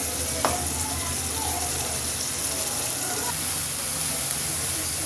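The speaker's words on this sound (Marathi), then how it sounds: "याला मी चांगलं भाजून घेते पाच मिनटं तेलात तळून" Ingredients for a biryani gravy fry in oil in a home kitchen, giving a steady, moderately loud sizzle throughout with one brief clink near the start.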